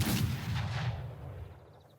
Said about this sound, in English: the Brown Bess is designed to be a sharpshooter rifle, so let's aim center of mass and see.